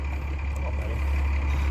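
A 360 cubic inch Dodge Magnum V8, fitted to a 1973 Dodge Dart Sport, runs at a steady idle: a continuous low engine rumble, close and fairly loud, with no talk over it.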